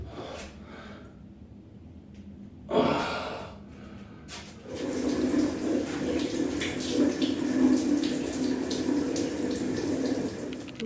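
A shower sprays water in a steady hiss. After a brief splash it turns on fully and runs continuously and close for the second half, with no talking.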